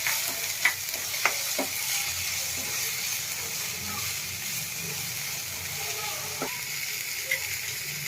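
Sprouted moong beans fry in a pan as turmeric and salt are stirred in, a soft continuous sizzle with occasional light scraping taps of the spoon.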